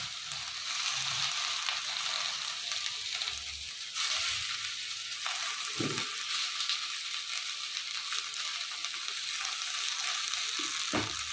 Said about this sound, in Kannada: ಇದನ್ನು ಚೆನ್ನಾಗಿ ಡ್ರೈ ಆಗಿ ಹುರ್ಕೊಳ್ಳೋಣ. ನೋಡಿ ಈ ತರ ಹುರ್ಕೊಬೇಕು ಸೊಪ್ಪನ್ನ.